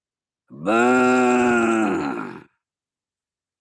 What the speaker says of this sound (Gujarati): ગાયનો અવાજ આવે